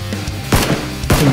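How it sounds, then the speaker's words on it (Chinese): Two loud, close gunshots ring out about half a second apart in the battle royale game PUBG, each a sharp crack trailing into a short echoing tail. "这里在开枪"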